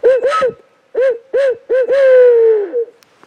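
A hunter's voice imitates an owl's hooting call during bow hunting season, a close, loud series of rhythmic hoots ending in a long drawn-out hoot, with no other sound around it.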